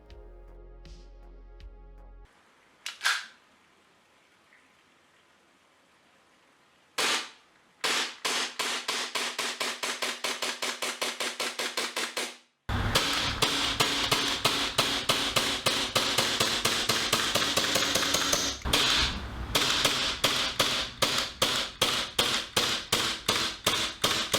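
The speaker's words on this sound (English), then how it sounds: "It was able to deliver rapid fire shots with the utmost confidence." Rapid bursts of shots from a TM/WE G series gas blowback airsoft pistol fitted with a WII Tech RMR sight base, sharp close snapping cracks in fast strings after a few single shots, with no talking.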